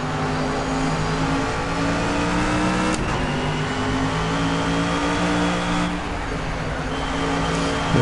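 A big race car's engine in Project CARS revs loud and steady while driving on an unfamiliar track, a continuous droning whine with shifting pitch and a brief swell partway through.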